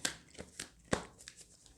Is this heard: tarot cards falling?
yes